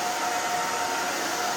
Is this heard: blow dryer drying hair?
yes